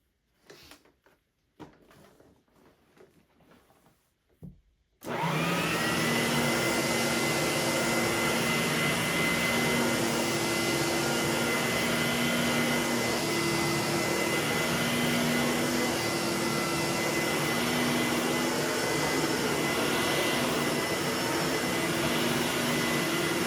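Electrolux Epic 3500SR vacuum cleaner running on carpet: a few soft knocks and handling clicks, then the motor switches on into a loud, steady whining roar that holds unbroken and close for the rest of the time.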